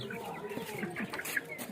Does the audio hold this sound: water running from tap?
no